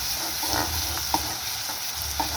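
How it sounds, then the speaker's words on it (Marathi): Green chili paste fries in a pan for a chawli bean dish with a steady low sizzle, while a few light taps and scrapes from stirring sound close by. "आपण जे हिरवी मिरचीचं वाटण करून घेतलेलं आहे ना ते आपण त्याच्यात ॲड करणार आहोत छानपैकी परतून घ्यायचं आहे"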